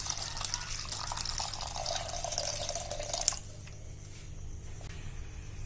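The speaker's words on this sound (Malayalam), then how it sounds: "ഇപ്പൊ നമ്മുടെ ആ ഇഞ്ചി ഊറാൻ വെച്ചിരിക്കുന്ന വെള്ളത്തിലേക്ക് ലേശം പച്ചവെള്ളം അങ്ങോട്ട് ഒഴിക്കാം" Plain water poured into a vessel of water holding soaked ginger for ginger curry, a faint steady trickling stream that stops partway through, leaving quiet dripping and room noise.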